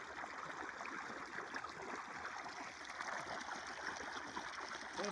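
Irrigation water flows into a sugarcane field in a continuous, rushing trickle with gurgling, fairly quiet and steady throughout, with no voices.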